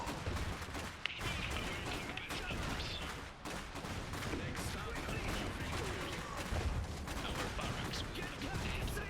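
Battlefield gunfire in the Iron Harvest strategy game, a dense continuous crackle of rifles and machine guns with scattered heavier blasts throughout, loud and unbroken.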